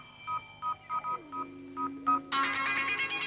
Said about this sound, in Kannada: ಅವ್ರ ಮೊಬೈಲ್ ರಿಂಗ್ ಕೊಡು